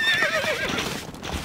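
A horse in the video game Stronghold Crusader whinnies loudly with a wavering, falling cry over a quick clatter of hooves, close and brief.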